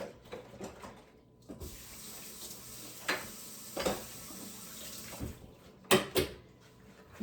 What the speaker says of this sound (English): Now let me wash my hands again.